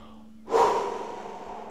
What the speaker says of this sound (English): Let's begin with a deep breath in and exhale through your mouth